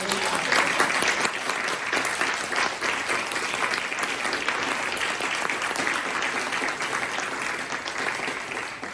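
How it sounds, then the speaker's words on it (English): An audience at a community event gives sustained applause, a thick, even roar of many hands clapping that carries on steadily and close for several seconds. "Can we give them a round of applause?"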